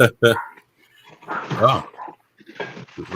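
Several dogs bark and whimper in short yelping bursts from a little distance, interleaved with people talking loudly over them in a casual indoor setting.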